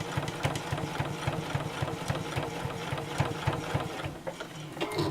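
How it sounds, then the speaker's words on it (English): A sewing machine runs steadily while stitching around the edge of a fabric cutlery pouch, its needle tapping in a fast, even rhythm close up, with no talking. "So I just sew all the way around this part."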